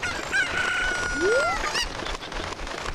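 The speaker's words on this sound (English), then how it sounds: "Take this evil chicken that tried to kill me." A cucco chicken in a Legend of Zelda video game lets out a loud, close synthetic squawk with a rising and falling pitch sweep, heard alone without talk.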